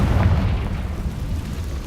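Confringo fire spell detonating in Hogwarts Legacy, a deep rumbling explosion with a loud burst at the start that rolls on as a dull low boom, no talk.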